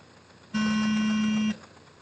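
A single steady electronic start beep for a tiny whoop drone race at an aviation museum, lasting about one second, clear and fairly loud over a quiet room.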